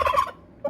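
A pet turkey lets out a quick rattling gobble up close, then after a short pause adds a brief clipped gobble.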